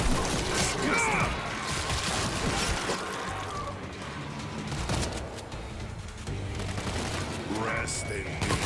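Rapid gunfire crackles continuously in the World War Z zombie shooter, dense automatic bursts with crashes and impacts layered beneath shouting voices throughout.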